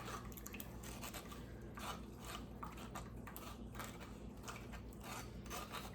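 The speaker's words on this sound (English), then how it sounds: "so that's boiling there." Water boiling in a pot while making Mexican rice gives a steady, close bubbling hiss with small crackling pops throughout, and no one speaks over it.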